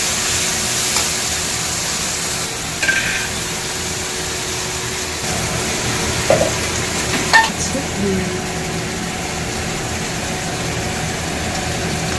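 Mustard paste and nigella seeds frying in oil in a pan, a steady broadband sizzle running throughout with a few brief clinks and stirring scrapes, no talk.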